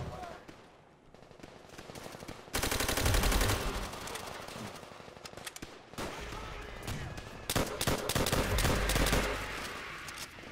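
Rapid automatic gunfire rattles through a co-op campaign mission of Call of Duty: World at War, dense bursts of shots in quick succession, loud and sustained, with voices talking over parts of it.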